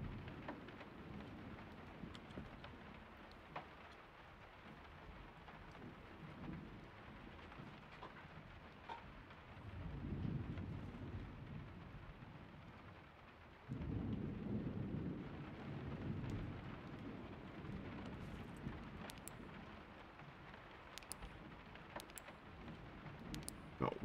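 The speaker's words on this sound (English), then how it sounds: "I don't want to be running in the rain because you really can't see anything." Rain pours steadily in a stormy outdoor scene of the survival game Miscreated. Deep thunder rolls swell twice near the middle and hold loud for several seconds over the continuous hiss.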